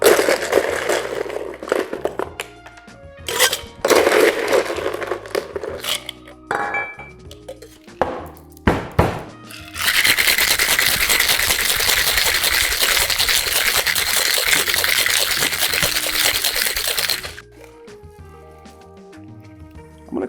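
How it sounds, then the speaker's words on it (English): Ice clinks and rattles as a cocktail is prepared, then a metal shaker packed with crescent ice is shaken hard for about seven seconds in a loud, steady rattling burst, followed by quieter pouring and handling. "But I'm going to shake with that crescent ice."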